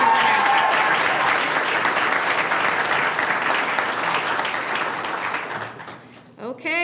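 A round of loud, dense audience applause honors state winners at a startup seed-fund demo day, sustained for several seconds and then thinning to scattered claps near the end.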